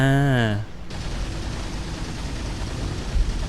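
Robot gunfire in the War Robots video game: a dense, continuous barrage of shots starting abruptly after a brief tonal sound, sustained and noisy with a small burst near the end.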